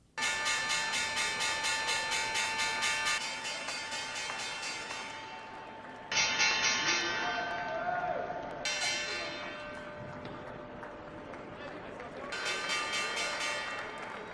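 Bell ringing marks the stock exchange close, a sustained metallic clanging that carries on through several sections over crowd noise, fairly faint throughout.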